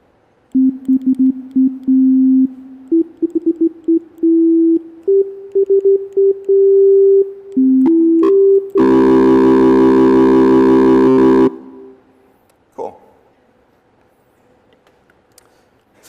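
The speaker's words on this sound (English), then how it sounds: "The browser will actually grab the Web Audio API and make a sound." Synth tones generated in a web browser by the Web Audio API: a run of short electronic beeps stepping through pitches, then a louder, buzzier sustained tone for a few seconds before fading to near silence.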